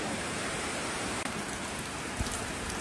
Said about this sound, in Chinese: 这外边下雨呢